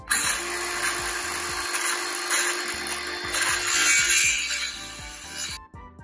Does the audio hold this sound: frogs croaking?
no